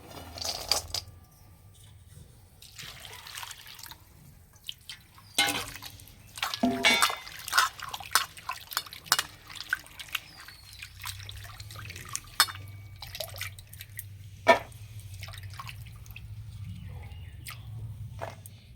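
Peeled jackfruit seeds are washed in water, with sloshing, dripping and small clattering knocks as the seeds are rubbed and moved about, close and moderately quiet, with uneven splashes.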